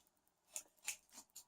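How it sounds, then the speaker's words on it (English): Scissors snip through material in four quick, faint cuts spaced a few tenths of a second apart, the work for a DIY microphone muffler, in a quiet room with no talk. "I'm going to cut out just one of these so it's easier to work with"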